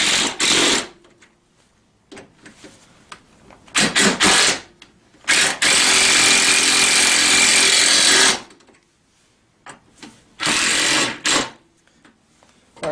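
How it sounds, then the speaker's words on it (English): Power tool tightening bolts on the rear rack of a Tao Tao CY50A scooter, several loud whirring bursts of varying length with short gaps between them, close up and alone. "once you get them all started, you just want to go through and tighten them all down."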